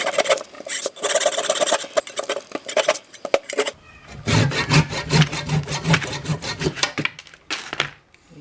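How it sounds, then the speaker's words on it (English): Rhythmic back-and-forth strokes of a handsaw cutting through very wet wood, close up, with a pause and change in pace midway, no talking. "We'll cut the excess off with a handsaw."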